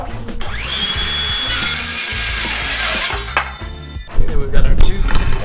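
A power saw cuts a board of wood for a skateboard grind ledge with a sustained high whine that cuts off sharply, followed by clunks and handling noises as the pieces are moved.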